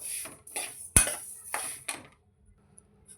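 Sesame seeds roasting in a pan over a low flame, stirred so a utensil scrapes and clinks against the metal in about five uneven strokes, one sharp knock standing out, then near silence.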